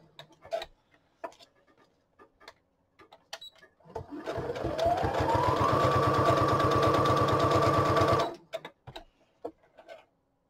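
A sewing machine stitches through paper in a fast steady whir for about four seconds, flanked by light ticks and clicks before and after, close and alone.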